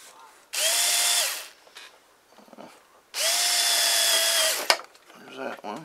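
A power drill bores holes near the plywood firewall of a Kadet LT 40 model airplane, two loud whirring bursts of about a second each, separated by quiet handling noises, with brief speech near the end.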